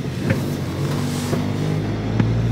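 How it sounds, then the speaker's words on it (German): A car rolls slowly onto a brake test bench in a workshop, its engine a steady low hum with a few soft knocks and clunks as the wheels meet the rollers, no talking. "wir fahren mal eben auf den Bremsenprüfstand"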